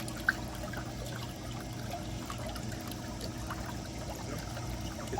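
Water rushes and trickles steadily during a pool filter backwash rinse, a continuous close splashing flow with a brief click near the start and no talking.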